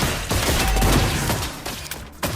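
Rapid bursts of video game gunfire crackle in quick succession, sharp and loud, with several distinct shots layered over a noisy background.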